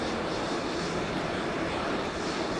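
Steady, dense roar of a Panavia Tornado's jet engines in Flight Simulator X, a constant loud wash with no variation and no voices.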